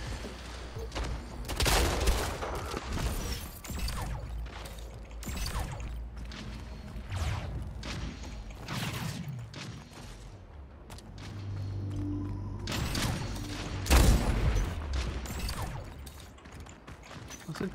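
Video game gunfire from the arena shooter Splitgate comes in repeated bursts of sharp shots and mechanical weapon clatter, fairly close, with thuds between the volleys and no talk.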